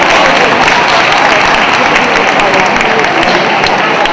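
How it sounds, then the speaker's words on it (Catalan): A loud crowd at the arrival of the Three Kings in Callús gives a dense, sustained round of applause for King Gaspar, a close, even roar of clapping with no pauses. "un aplaudiment pel senyor"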